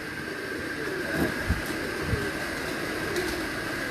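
Soft coos of a Lal Toofan pigeon and faint bird calls on a rooftop in Kasur, over a steady background hum, with a few light taps and rustles.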